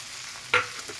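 Cabbage, carrot and beans tipped into a hot pan for egg rice give a brief hiss of sizzling and a stirring scrape, close by and short-lived, with no voices.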